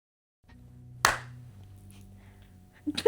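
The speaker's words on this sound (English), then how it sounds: "That was a really good clap." A single sharp hand clap cracks out in a quiet room, followed by faint low hum and a couple of small knocks at the end.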